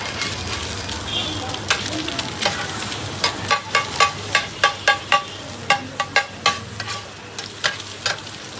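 Eggs frying with onion, chili and spices on a hot griddle, a loud continuous sizzle under a rapid run of rhythmic metal spatula taps and scrapes, with people talking nearby.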